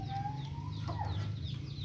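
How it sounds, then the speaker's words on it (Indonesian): Faint calls from wild quail in a breeding pen, short chirps and clucks over a low steady hum, a thin whistled note rising near the start. "beginilah suasananya penangkaran burung puyuh liar."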